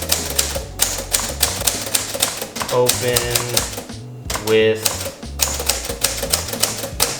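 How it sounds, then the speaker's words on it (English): An actual typewriter typed on in rapid bursts of crisp, close keystrokes with brief pauses, during a product photography shoot, while a person talks briefly. "All right, so this is an actual typewriter."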